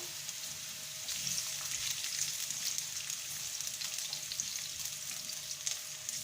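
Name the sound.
onion frying in a pan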